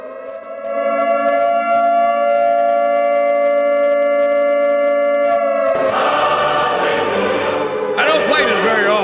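A civil defense warning siren sound effect wails in a steady, loud sustained tone for several seconds, then gives way to a busier, noisy blare with a sharp change near the end.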